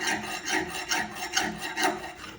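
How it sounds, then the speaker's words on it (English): Hand file drawn with light pressure across a workpiece, giving a series of soft rasping strokes in a steady back-and-forth rhythm, close and fairly quiet, with no talking. "So if you put less pressure on the file, as I'm doing, you're then going to get a less of an aggressive cut to it."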